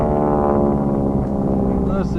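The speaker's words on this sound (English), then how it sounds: "Listen to those Pratt & Whitney 1340 radial engines" A steady, loud droning roar of Pratt & Whitney 1340 radial aircraft engines at an airshow, low and throbbing, filling the whole clip with a faint voice underneath.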